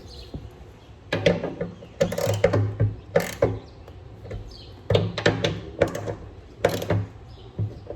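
A hand ratchet tightens screws on a 2021 Toyota Tacoma with a series of close, crisp clicking bursts in uneven groups, fairly quiet and with no talk.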